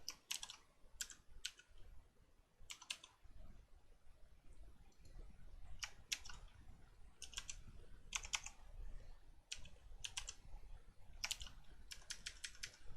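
Bursts of typing on a computer keyboard while writing HTML list code, quick clusters of crisp key clicks separated by short pauses over a quiet room background.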